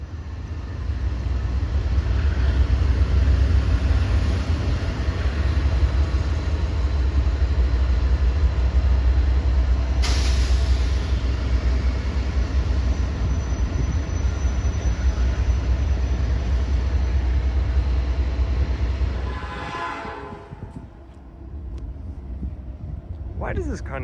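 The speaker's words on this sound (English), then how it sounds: "Another train came east on track 2." Freight trains rumble past during a three-way meet in Elkhart, a loud, steady low roar of rolling cars that continues for about twenty seconds before abruptly dropping away; no clear horn blast stands out.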